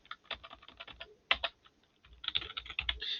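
Quick bursts of computer keyboard typing, close and crisp, with a short pause midway before another run of keystrokes.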